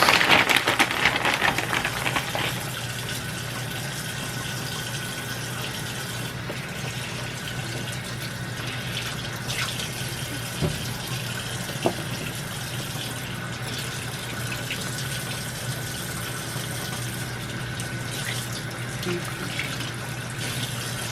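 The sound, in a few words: rinsing frozen catfish nuggets in a bag under running tap water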